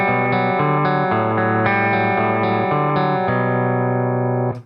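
Electric guitar playing sustained chords through a compression sustainer pedal, giving a heavily compressed tone. Each chord rings out evenly, changing every half second or so, with no talking.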